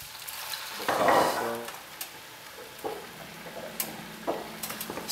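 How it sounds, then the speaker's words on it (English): Soft sizzling and stirring of wine into mushroom and shallot risotto in a hot pan, a burst of frying hiss followed by intermittent scraping taps of the spoon, fairly close. "Stir that in."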